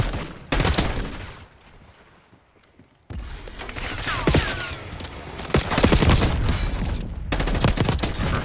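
A hostile long gun fires in Black Ops 6 amid loud battle noise, with bursts of sharp gunshots and heavy rattling fire, a brief quieter lull, then continuous dense volleys.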